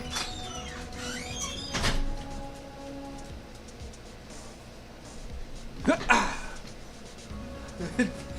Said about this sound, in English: my dog is at the door